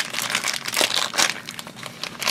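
A plastic toy accessory bag crinkles and rustles close up as someone struggles to open it, a dense run of sharp crackling bursts with no talking.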